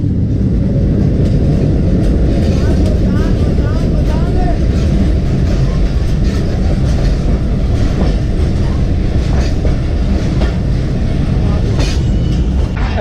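A train rolls through a railway station in Pakistan, a loud continuous rumble with a rhythmic clatter of wheels over rail joints, heard close by and steady from start to finish.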